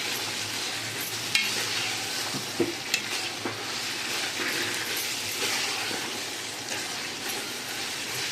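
Ginger garlic paste stirred and fried in a pan for mutton paya biryani, giving a steady close sizzle with a few sharp spoon clinks against the pan and no voices.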